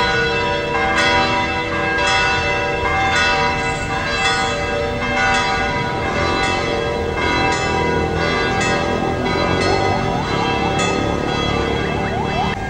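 Church bells peal continuously in a rich, layered ringing on Ongpin Street, Manila, during New Year celebrations, steady and loud throughout, with a siren-like tone blending in the background.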